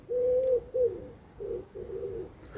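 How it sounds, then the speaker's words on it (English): Soft, hollow cooing from a wood pigeon, four rhythmic phrases close by in a quiet setting. "a bit of birdsong thrown in too, if wood pigeons do have a song at all"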